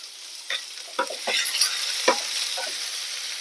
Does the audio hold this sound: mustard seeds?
yes